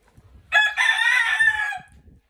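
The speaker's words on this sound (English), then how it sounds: "today, I'm gonna be showing you my guys my roosters." A rooster gives a single loud, close crow lasting over a second, with faint scratchy background noise before and after.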